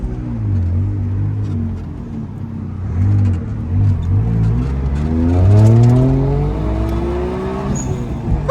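Bagged Subaru WRX driving and accelerating, a deep, loud engine drone rising in pitch through several gear pulls, heard close from inside the car with no talking.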